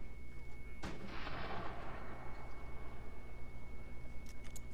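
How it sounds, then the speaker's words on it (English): In the America's Army video game, a flashbang grenade goes off as one sharp, loud blast, followed by a lingering rumbling tail under steady low background noise. "Flashbang out."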